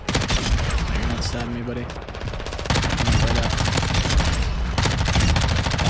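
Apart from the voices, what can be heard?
MP5 (Lachmann Sub) gunfire in video game Modern Warfare 2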